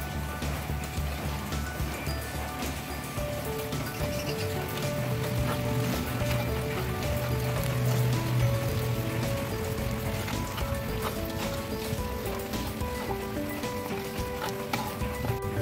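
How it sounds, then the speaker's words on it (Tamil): Steady rain falls outdoors beside a cooking stove, a continuous patter holding the whole stretch at an even level with no voices. "மழையும் பெய்யறதால அடுப்பு இருக்க கொஞ்சம் பெஞ்சு போட்டார்."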